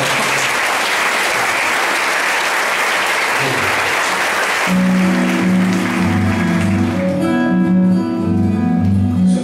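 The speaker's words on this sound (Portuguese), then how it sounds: "Queria que você desse uma salva de palmas" Audience applause after a request to clap for a childhood friend seated at a table, at a poetry reading event; steady broad clapping for about five seconds, then it fades as guitar-like tonal music begins.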